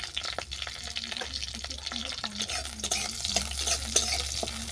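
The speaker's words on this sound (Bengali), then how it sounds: "ফোড়নটাকে আমি ভালো করে ভেজে নেব।" Panch phoron spices with dry red chilli, bay leaf and slit green chilli fry in hot oil, sizzling steadily under repeated scraping stirs of a spatula, close up, with a low hum beneath.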